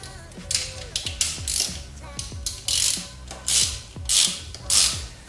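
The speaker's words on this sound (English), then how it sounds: "I will go ahead and take my ratchet and tighten these down." A hand ratchet clicks in quick bursts while tightening the fuel injector bolts on a 1990-93 Mazda Miata, with close, loud runs of rapid pawl ticks separated by short pauses.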